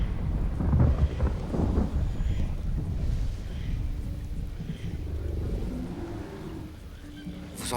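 Rolling thunder during a storm in a film, a low, steady rumble mixed with rain and wind. It swells near the start and then fades off, with no voices.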